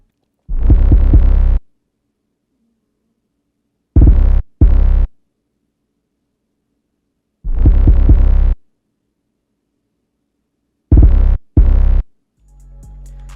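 Two distinct 808 bass patterns from an FL Studio beat trade off in alternating phrases, heavy booming low hits arriving in short bursts separated by silent gaps, loud and close with no voices.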